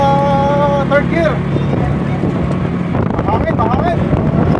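A tuktuk engine labors in third gear on a mountain trail ride, a steady loud drone with rising strained tones, wind buffeting the microphone and people talking over it.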